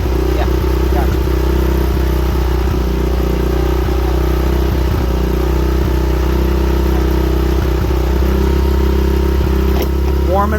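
A motorcycle engine warms up at idle, a loud, steady low rumble with a fine mechanical clatter that stays constant and close throughout.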